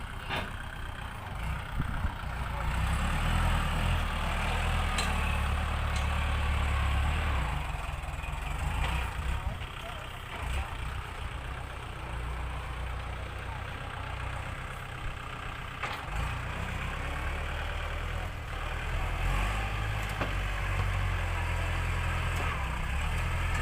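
A tractor engine idles steadily at moderate distance, a continuous low rumble with slight fluctuations throughout.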